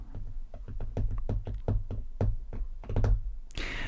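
Steady ASMR tapping: a quick series of hollow knocks in an uneven rhythm, close and fairly loud, ending with a brief rustle, with no speech.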